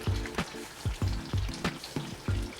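Onions frying in a pan, a steady sizzle broken by repeated low bumps and scrapes of stirring at a roughly regular rhythm, close and moderately loud with no talking.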